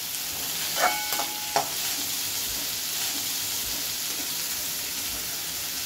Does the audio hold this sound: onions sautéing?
yes